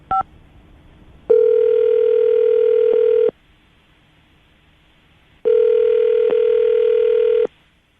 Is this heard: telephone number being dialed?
yes